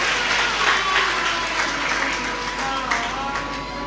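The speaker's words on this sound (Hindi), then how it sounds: "एक बार उनके लिए भी जोरदार ताली बजाकर साधुवाद है।" Audience claps during a Hindu Shiv Mahapuran religious discourse, a broad steady wash of applause at moderate loudness, with a few voices mixed in and a faint low hum underneath.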